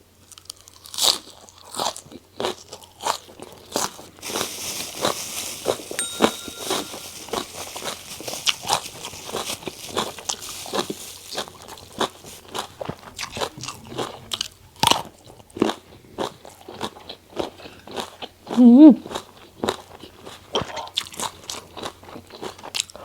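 Crunchy Thai papaya salad being eaten close up, with repeated crisp bites and wet chewing crunches in an uneven rhythm throughout, plus occasional scrapes and a brief louder crunch toward the end.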